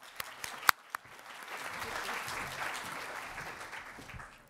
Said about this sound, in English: please give him a round of applause as he comes to the stage